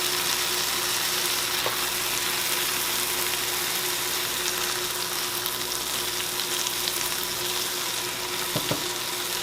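Sweet and sour chicken with pineapple and red and green peppers sizzles steadily in a pan, a constant close fry hiss with faint clinks.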